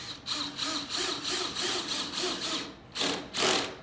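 A power drill drives a number 8 by 1.5 inch outdoor wood screw into an Adirondack chair, the motor whirring in short pulsing bursts as the trigger is feathered, then two stronger pushes near the end.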